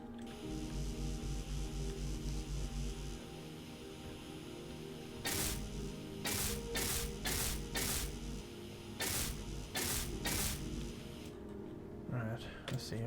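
Welding in the Space Engineers video game, a steady mechanical hum with a series of sharp hissing bursts in quick succession partway through, fairly faint, with quiet talk over it.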